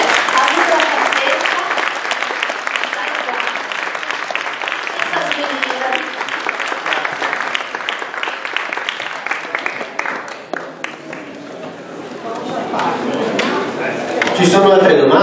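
An audience at an Italian science lecture breaks into dense, sustained applause, loud and close, thinning briefly before swelling again at the end.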